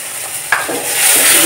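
Chickpea curry frying and being stirred with turmeric and spices in a pan for chole, a steady close sizzle with a sharp stir scrape partway through that builds louder toward the end.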